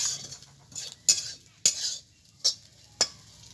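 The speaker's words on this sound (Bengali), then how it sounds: "বন্ধুরা, নারকেলটা আমি একটু লাল লাল করে ভেজে নেব।" Grated coconut being fried in a pan until reddish for a shapla (water lily) dish, with a few sharp, spaced spatula scrapes and clinks against the pan over a faint background sizzle.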